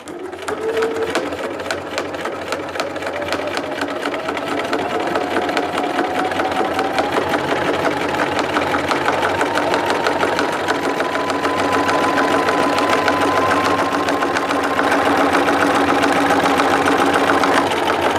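A sewing machine with a walking foot stitches layers of a potholder, running loud and close with a fast, even mechanical hum and rapid stitching chatter that speeds up slightly and holds steady throughout.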